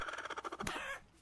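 A cockatrice in Vintage Story gives a rapid run of clucking, chicken-like pulses ending in a sharp squawk that fades out, fairly faint and heard on its own.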